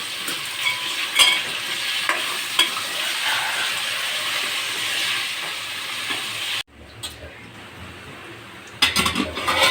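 Bottle gourd pieces with onion frying in a pan, a steady loud sizzle with occasional stirring clicks, then a sudden drop to a quieter hiss before scraping noises return near the end.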